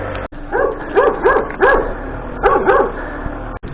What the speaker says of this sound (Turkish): Köpekler beni yiyecek ya